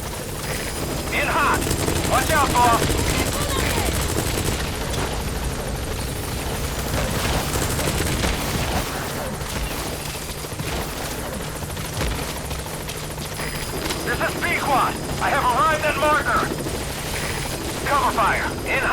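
Pequod, the support helicopter in Metal Gear Solid V: The Phantom Pain, flies in with a loud, steady rotor roar that fills the scene, mixed with distant gunfire and radio voices talking.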